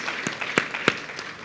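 Church congregation breaking into brief applause, a short burst of a few sharp, spaced claps in a large room, then trailing off.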